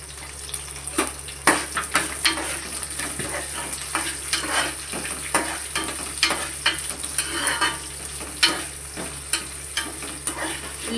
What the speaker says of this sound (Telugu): ఉల్లిపాయలు బాగా కలుపుకోవాలండి.